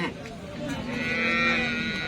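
A cow at a cattle market lets out a long, loud, drawn-out moo close by, steady and resonant from start to finish.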